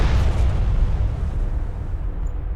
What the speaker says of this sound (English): One of our turrets is taking fire.